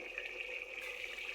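Water running steadily from a kitchen tap while peas are rinsed for a home-cooked keema aloo, a continuous even hiss with no breaks and no voices over it.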